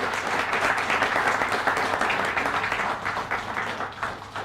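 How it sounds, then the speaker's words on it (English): An audience at a Bangkok congress of non-resident Indians gives a round of applause, dense and steady, tapering slightly toward the end. "A huge round of applause for him."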